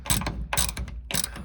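A ratchet clicks in three quick bursts while tightening a bolt on the roof panel of a C4 Corvette, close and crisp with short pauses between.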